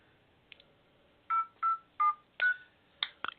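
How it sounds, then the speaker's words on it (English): A telephone number is dialed as a string of DTMF keypad tones: a couple of faint early blips, then four or five evenly spaced beeps close up, followed by clicks, with no voices. "I am actually going to try to call his number right now"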